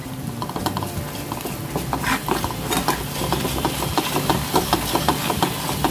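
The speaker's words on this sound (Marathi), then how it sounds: "त्याच्यामध्ये आपला हा वाटण टाकायचं आहे। आणि मिक्स करून घ्यायचं।" A spoon stirs ground masala paste into a simmering vada curry in a pan, a steady run of scraping and sloshing strokes over a low continuous hum and faint sizzle, close and fairly loud, with no talking.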